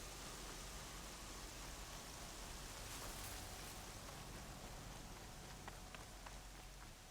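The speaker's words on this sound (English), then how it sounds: "So Josh, apparently this is rain." Rain in the video game Horizon Zero Dawn, a steady dense hiss of falling water that fills the scene evenly without pause, with faint scattered patters and clicks.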